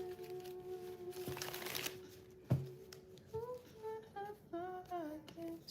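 Tarot cards shuffle in a few soft riffling bursts during a live collective reading, quiet and close, under a faint steady hum and a few light taps.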